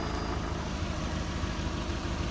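Subaru with its muffler removed, idling loudly with a dense, continuous low rumble and a fast rattling knock running through it, steady and close throughout.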